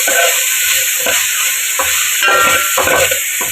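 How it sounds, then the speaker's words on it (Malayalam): Sliced onions with a pinch of salt frying in oil for chicken curry, a loud steady sizzle broken by repeated scraping strokes of a spoon stirring the pan, close up with no talking. "സവോള ഒരു ബ്രൗൺ കളർ ആകുന്നതും വരെ നമ്മളിങ്ങനെ ഇളക്കണം കേട്ടോ"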